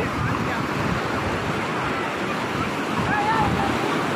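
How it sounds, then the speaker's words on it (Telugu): Ocean waves breaking at Yarada beach on a busy Sunday, a close, steady roar of surf and wind with faint crowd voices mixed in. "ఈరోజు మేము యాదడ బీచ్కి వచ్చామండి"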